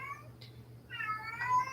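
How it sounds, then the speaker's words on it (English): A cat meowing to be let in, a short meow followed by a longer drawn-out one, faint and somewhat distant over a low steady hum, with no talk. "Oh, that's my cat wanting in."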